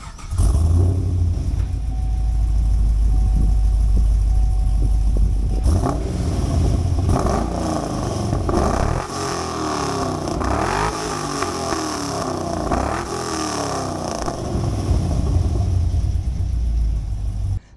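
A 2010 Chevrolet Camaro SS V8 with a full exhaust, K&N intake, headers and bigger throttle body idles with a deep loud rumble, then blips through several sharp revs and settles back, close and without talk.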